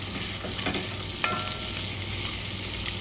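Onions and minced garlic fry steadily in a pot as the base for a Southern-style smothered chuck roast, a close, continuous sizzle with faint stirring clicks and no voices.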